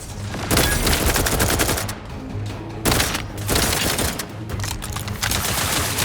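Dense, sustained gunfire in the video game The Outer Worlds 2, loud and close, with rapid overlapping shots and booms across the whole stretch and only brief dips in intensity.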